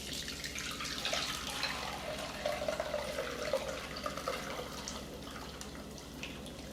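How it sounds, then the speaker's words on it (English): Blended rice horchata mixture poured steadily into a container, a continuous close liquid splash and trickle lasting several seconds at moderate level, with no talking. "you're gonna pour in your blend very carefully"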